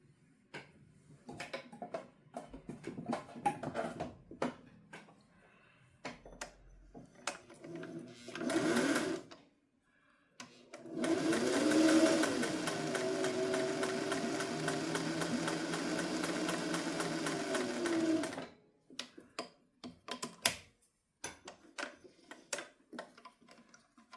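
Domestic sewing machine stitching a beginner's Annie's Choice quilt block, running steadily for about seven seconds after a short earlier burst, with handling noises around it.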